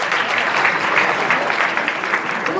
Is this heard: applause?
yes